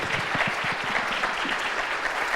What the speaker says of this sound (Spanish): Yo creo que se merecen un fuerte aplauso nuestros panelistas.